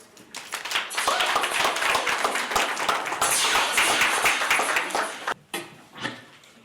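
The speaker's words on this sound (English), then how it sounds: "Please give a big round of applause for T-Cross." Enthusiastic applause greets a performer introduced at a women's gala, a dense burst of clapping that swells, holds for several seconds, then breaks off abruptly with a few scattered claps after.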